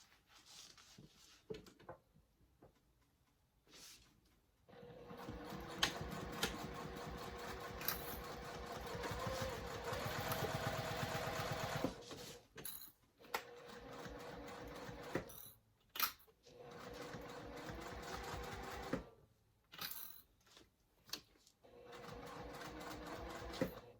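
A sewing machine stitches fabric in several runs of rapid mechanical whirring. Short quiet pauses and handling clicks separate the runs, and the machine is close and fairly loud.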